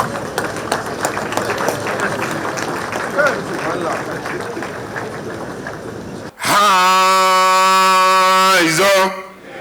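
Applause at a governor's anniversary banquet fills the first part as a broad patter of clapping under loudspeaker noise, then gives way abruptly to a loud, sustained musical tone.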